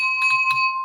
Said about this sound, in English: extra bells.